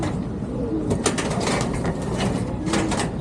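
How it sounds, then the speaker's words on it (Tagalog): Racing pigeons released from a loft coo and call nearby, with bursts of wing flapping and rustling rising as the birds move out. "Pakawala na natin mga ibon dito."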